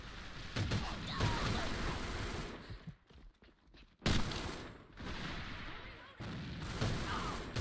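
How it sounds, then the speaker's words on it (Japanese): A KAC SR-47 rifle in the shooter game AVA fires warning shots, with sharp loud bursts of gunfire and a brief quieter pause in the middle. "さあ一応ここで威嚇射撃しとけば大丈夫でしょう"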